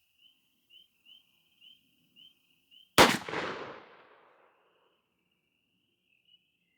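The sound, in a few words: shotgun shot, Remington Game Load lead #6 from NEF Pardner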